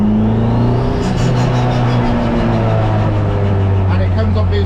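A turbocharged Toyota MR2 Mk3 engine pulls at around 2,000 RPM with a loud, steady drone and a slowly shifting pitch, heard from inside the car while a voice talks over it.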